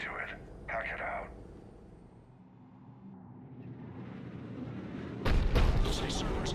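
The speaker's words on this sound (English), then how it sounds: "Looks like Cerberus got that cannon operational, Commander. I'll go back up, get a read on what they're shooting at." A Cerberus cannon in the Mass Effect 3 video game fires with deep, heavy booming blasts, a loud burst near the end standing out over a rumbling battle backdrop, with brief voice chatter early on.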